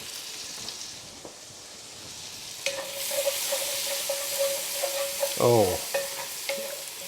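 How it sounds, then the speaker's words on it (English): Shallots dropped into foaming butter set off a sudden sizzle that keeps crackling steadily in the pan, with a brief clatter of stirring partway through and a short exclaimed word near the start. "our butter is foaming, and we're going to go ahead and put our shallots in"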